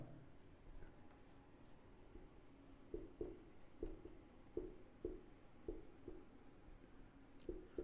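Chalk writing on a board in a classroom, faint rhythmic taps and short scratchy strokes recurring about every half second over a quiet room hum.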